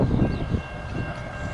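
A train rolls past nearby, giving a steady low rumble with a faint high tone above it, heard at a trackside spot at the end of a residential street.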